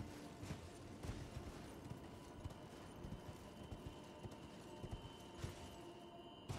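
A horse in the video game Elden Ring gallops with a steady, quick clip-clop of hooves at moderate distance, rhythmic beats continuing throughout against a faint game backdrop.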